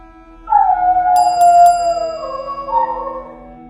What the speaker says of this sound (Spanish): Un perro comenzó a aullar a lo lejos.